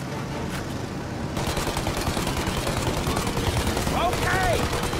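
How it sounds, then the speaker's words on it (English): Rapid gunfire in the video game Mafia, aimed at a plane's engines, rattles on continuously and densely, growing louder partway through amid a busy mix of game noise and shouting voices. "Shoot out the engines!"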